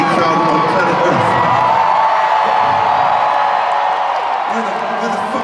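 A huge stadium crowd at a concert at Lincoln Financial Field in Philadelphia cheers and whoops loudly and without a break, a dense roar of voices filling the whole stretch.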